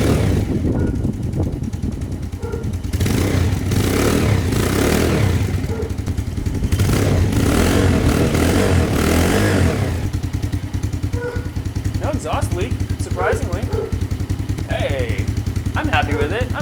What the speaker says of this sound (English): It's a 125cc, 1-cylinder Chinese engine, but hey, it's better than it was